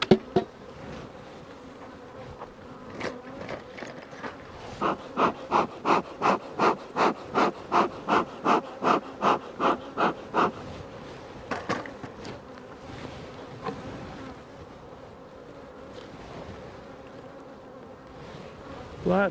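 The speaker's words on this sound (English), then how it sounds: "Lots and lots of bees." Many bees buzzing close by in a steady drone, with a run of rhythmic pulsing bursts in the middle and faint breathing or movement at times.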